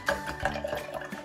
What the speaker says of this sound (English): I'm just going to use a straw and just give it a little stir around